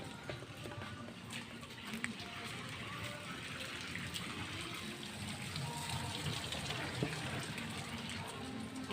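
Steady rain pours down in a broad, continuous wash, with a watery rush and scattered drips holding at an even level throughout, fairly close and loud, with no voices over it.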